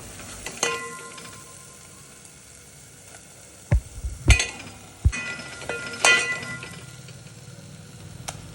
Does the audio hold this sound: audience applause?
no